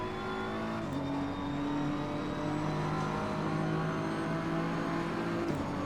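BMW M4 GT3 race car engine in iRacing, a steady loud drone with sustained revs and a couple of abrupt gear-shift pitch changes, no talking.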